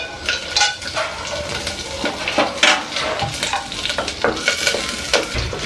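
Green chillies, dried red chillies, curry leaves and cashews sizzle in a spoon of ghee while a spoon scrapes and stirs them around the pan, steady frying crackle with irregular metallic clinks, close and alone.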